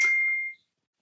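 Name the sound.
a little beep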